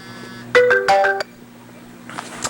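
Telephone keypad dialing tones during a recorded call, a quick run of distinct beeps in two close bursts, followed by a quieter, hissy stretch.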